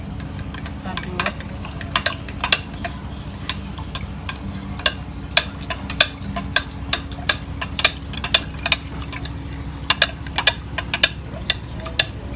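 A spoon stirs table salt into about 700 ml of water in a container, clinking against the sides in a steady rapid rhythm of sharp close ticks over a low hum.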